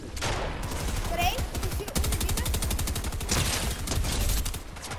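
Rapid bursts of automatic gunfire in Fortnite crackle almost nonstop, loud and close, with a voice talking intermittently underneath.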